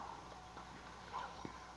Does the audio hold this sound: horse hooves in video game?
yes